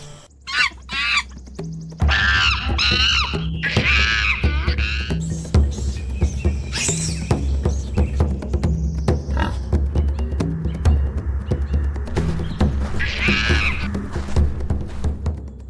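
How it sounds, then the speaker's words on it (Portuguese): Young proboscis monkeys in the forest screaming while fighting: repeated shrill squeals and harsh cries in bursts over a steady low rumbling hum, the calls close and loud, scattered throughout with short gaps between outbursts. "dois filhotes de macaco que brincavam de repente começam a brigar. Gritos e sons ecoam"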